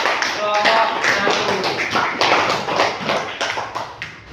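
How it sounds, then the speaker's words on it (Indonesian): A classroom of students claps for a group that has just presented, a close, busy patter of many hands lasting a few seconds, with some voices mixed in. "Kita beri tepuk tangan kepada kelompok"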